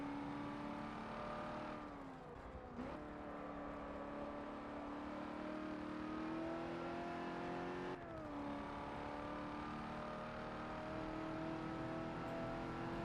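A Ford F-100 truck in the racing game Forza Motorsport 7 drives a lap, its engine whining steadily under acceleration, with pitch drops at gear shifts and braking around two and eight seconds, faint overall and without voices.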